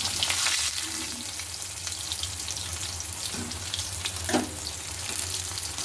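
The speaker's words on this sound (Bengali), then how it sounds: "দেখুন এখানে আমার মাছগুলো সব ভাজা হয়ে গেছে।" Bhola fish pieces fry in hot oil, a steady close sizzle with a few bubbling pops, no talk.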